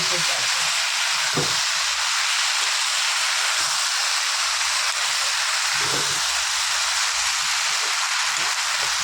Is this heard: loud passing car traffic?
no